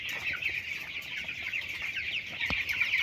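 Broiler chickens, 19 days old and about 700 in number, cluck steadily on a poultry farm in Mymensingh, a dense continuous flock chatter with one sharper call near the end.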